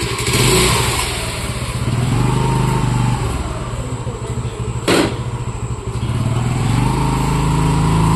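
A scooter engine revs steadily during a test drive, a close, continuous motor drone rising and falling with throttle for several seconds, with a brief sharp burst midway.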